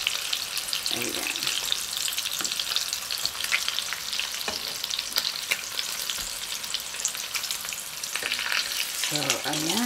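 Tofu and spam fry in a pan with a steady, dense sizzle that runs the whole time, broken by a few brief stirs and clinks, close and fairly loud, with no talking.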